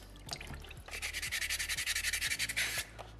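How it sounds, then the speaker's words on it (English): Sandpaper rubs over a small soapstone orca carving in quick, even back-and-forth strokes, a close, soft rasping rhythm of about a dozen passes. "And then with sandpaper number 2, we're going to get rid of all the scratches we don't want to see before we go to sandpaper 3."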